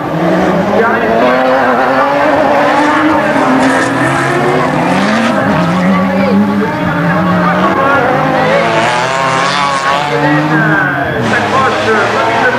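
Rallycross race cars at a French Coupe de France round in Badefols-d'Ans roar loudly with turbo and exhaust noise, engines revving and shifting continuously up close while a commentator talks over them throughout.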